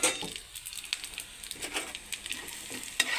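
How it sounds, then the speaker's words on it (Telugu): Sesame, coriander seeds and cumin fry in a little oil with a soft, crackling sizzle and light stirring scrapes, close and moderately quiet. "ఇంకా ధనియాలు, జీలకర్ర వేసుకుని ఫ్రై చేసుకుందామండి"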